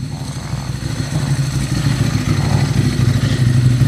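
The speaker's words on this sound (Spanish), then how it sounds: "¿Escuchaste esa moto?" A motorcycle engine rumbles steadily nearby, a loud low throbbing drone that holds without pause.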